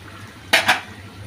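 A spoon scrapes twice against a pan of fish curry with bilimbi and whole green chilies. The two quick metallic strokes come over a low kitchen hum, with no talking.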